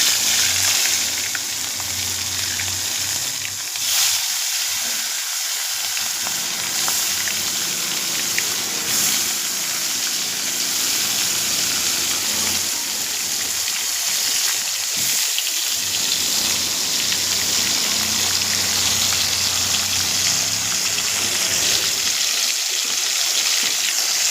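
Pieces of katla fish deep-frying in hot oil in a kadai give a loud, steady sizzle and crackle that runs unbroken throughout, with a few brief dips in the low rumble.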